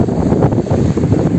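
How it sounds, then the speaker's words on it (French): Cool wind blowing across the microphone at a castle viewpoint above clear water in Greece, a steady low rumbling buffet with gusty swells and no voices. "Il y a un petit vent frais quand même"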